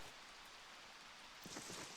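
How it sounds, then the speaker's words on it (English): Steady rain falling in a survival video game, a continuous hiss of drops with a slightly heavier patter near the end, alone without talk. "if it starts raining, which it is now"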